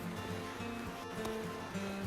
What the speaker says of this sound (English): You can hear the waterfall and the stream below.